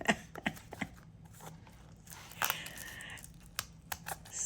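Scissors cut out an eye piece in a string of faint, close, crisp snips with short pauses between them.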